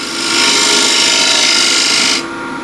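Lathe tool shear-scraping a bead into a spinning turned wooden bowl, a loud steady scraping hiss for about two seconds that cuts off sharply, leaving the softer hum of the lathe.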